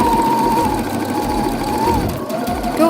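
A sewing machine stitches trouser darts in a loud, continuous, close-up mechanical whir that holds steady throughout.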